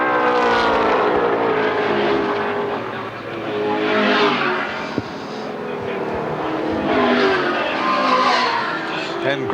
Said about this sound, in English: manoeuvres to try and get past Warren Cullen as they go around the Dunlop loop